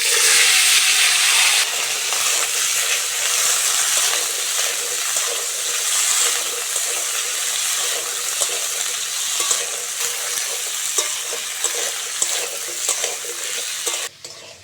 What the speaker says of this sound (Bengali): ওই তেলের মধ্যে সবজিগুলো দিয়ে দেবো।